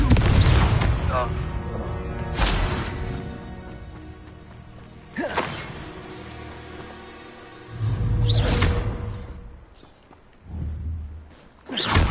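Confringo fire spell blasts in Hogwarts Legacy, several loud booming bursts with whooshing tails spaced a few seconds apart, each following a shouted incantation, with a voice talking in between.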